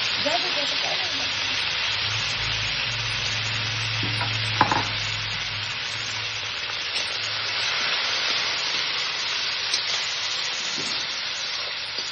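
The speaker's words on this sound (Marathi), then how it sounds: "बटाटे मऊ होईपर्यंत हे करायचं, तळून घ्यायचं आपल्याला वापरून" Potatoes frying in a pan for a sabudana usal, a steady close sizzle with occasional stirring clatter and a low hum early on.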